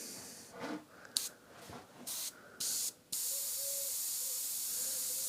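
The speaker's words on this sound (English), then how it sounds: "Press down, paint's coming out." Gaahleri airbrush spraying paint, short hissing bursts as the trigger is pressed and released, then a steady continuous hiss held close by, with no talking.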